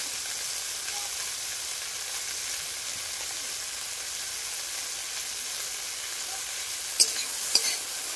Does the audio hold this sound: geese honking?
no